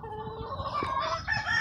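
A fighting rooster clucks and calls nearby in short, throaty bursts, with a higher crowing note near the end.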